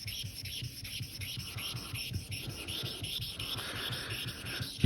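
Straight razor stroked across a Nakayama Maruka Kiita lv5+ Japanese natural stone, producing a steady, soft rhythmic rasping of repeated honing passes, close and fairly quiet, with a sharper knock at the very end.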